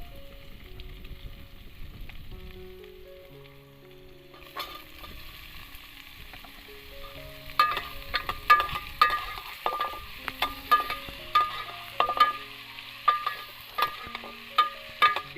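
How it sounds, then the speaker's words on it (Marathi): Potatoes frying in a pan at an outdoor jungle cookout, a low sizzle joined partway through by a run of sharp rhythmic scraping and tapping stirs that grow louder toward the end. "मी जरा दोन मिनटं आपण बटाटी फ्राय करून घेऊया"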